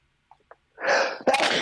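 A single person sneezes indoors during a tabletop role-playing session: a brief faint intake, then a loud, sharp two-part burst close to the microphone, with no talk.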